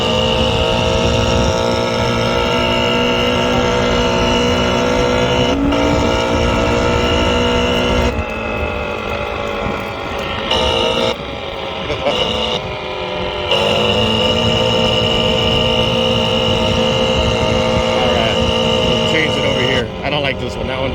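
Simulated broken-car engine sound played from the speaker of a Segway Ninebot GoKart Pro, a loud rough droning rumble with shifting pitch that continues throughout, with a voice talking over it.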